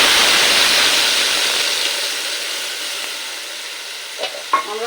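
A ground paste of tomato, ginger, garlic and onion hits hot oil with a loud hissing sizzle that slowly fades, followed by a couple of soft spoon scrapes near the end, up close and with no talking.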